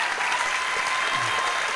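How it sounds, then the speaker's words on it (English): Live audience at a comedy show in an arts centre applauding steadily, a dense continuous clatter of clapping with faint cheers underneath. "Give Shane a round of applause for this."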